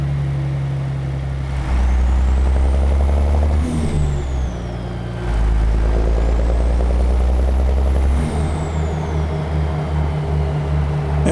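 A heavy FLX 359 truck engine in American Truck Simulator drones loudly and steadily, with low rumbling harmonics. The pitch dips briefly midway and then settles back into a deep idle, alongside a rising and falling whine, with no voices.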